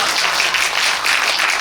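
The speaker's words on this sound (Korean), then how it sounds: "박수 한번 치고 넘어가겠습니다" Steady, dense applause from a theater audience at a Korean film director's talk, even and sustained throughout, close and fairly loud with no voices over it.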